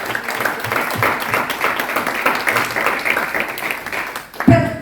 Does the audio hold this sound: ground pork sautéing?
no